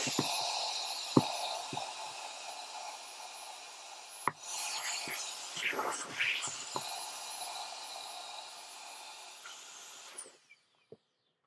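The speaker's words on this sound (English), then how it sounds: "This is a blower." An air blower inflating an Aparo HT-12C RGB LED inflatable light gives a steady, close rushing whoosh that runs for about ten seconds, with a few knocks and rattles, then cuts off abruptly.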